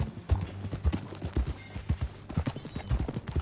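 Horse hooves clop steadily at a walking pace in the open world of Red Dead Redemption 2, a close, even rhythm of thuds with no voices over it.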